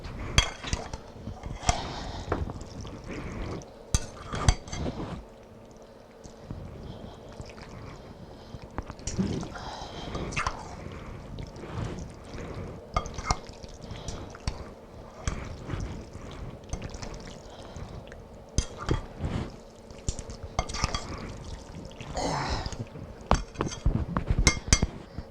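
A spoon stirs and scrapes a spaghetti mixture in a bowl, giving irregular clinks and knocks over a steady murmur of kitchen noise, near and moderately loud throughout.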